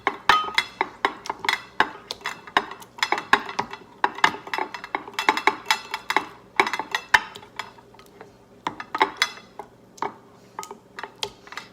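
A spoon clinks and taps repeatedly against a bowl while homemade aloe and alcohol hand sanitizer is stirred, a quick irregular run of close, sharp knocks with quiet gaps between.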